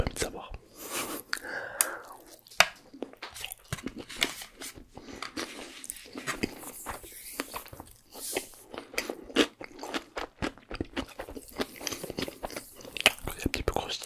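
Close, crisp crunching and chewing of crunchy sushi with wet mouth sounds, mixed with soft murmured speech in between bites.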